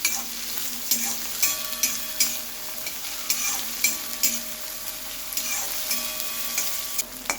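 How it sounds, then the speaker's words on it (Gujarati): Chopped onions fry in a pan for a Gujarati spinach dish, sizzling steadily while being stirred, with regular scraping strokes of a spoon sounding close and clear, and no voices. "આ ડુંગળીને તમારે ગોલ્ડન બ્રાઉન થવા દેવાની છે।"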